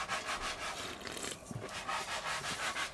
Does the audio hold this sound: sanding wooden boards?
yes